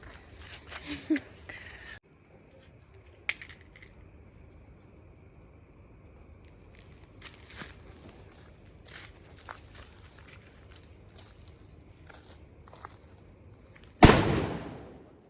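A sutli bomb firecracker bursts outdoors during Diwali. A long stretch of chirping crickets and scattered faint clicks comes first, then a single sharp, loud bang near the end.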